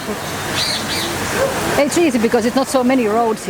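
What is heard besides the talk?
birds chirping in Kuala Lumpur bird park aviary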